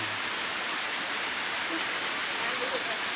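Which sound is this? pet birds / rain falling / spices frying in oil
rain falling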